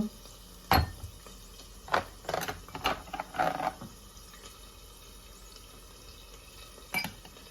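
Chicken pickle being stirred with apple cider vinegar, dried chillies and mustard seeds in a bowl, giving a few quiet, scattered clinks and wet scrapes of a spoon against the dish, close and soft.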